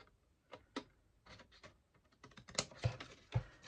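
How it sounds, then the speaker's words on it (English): Large scissors snip through card stock to trim away a score line on a gift card envelope, giving a series of crisp close clicks and snips that grow louder and sharper toward the end. "I'm going to get my bigger scissors so I can do a bigger cut"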